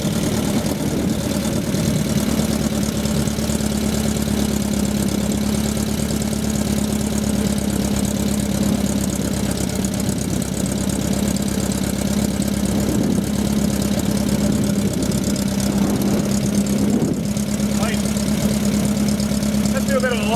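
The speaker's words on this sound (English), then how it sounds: "I'm very impressed with that engine." A 1974 rat-look VW Beetle's air-cooled engine idles steadily and close by, a continuous loud rumbling drone with a faint rev near the end, while someone talks over it.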